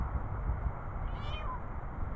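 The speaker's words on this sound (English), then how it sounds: "I know y'all hear this cat" A single drawn-out cat meow, close by, over a low steady background hum.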